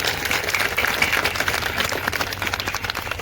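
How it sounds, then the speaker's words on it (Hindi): A village congregation at a Guru Ravidas birth anniversary gathering claps for the guru, a dense, steady patter of many hands sustained evenly throughout. "प्यारी साथ संगत से कहता हूं कि गुरु जी के लिए एक जोरदार ताली बजाने का काम करें"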